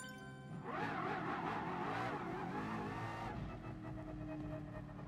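A race car in GT Sport revs hard through rising and falling engine tones, with tyre squeal and skidding in the mix, then settles into a steadier drone; the level is fairly quiet and there is no talk.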